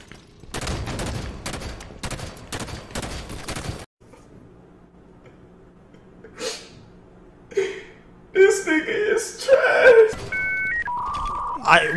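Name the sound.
gunfire in Halo 5 video game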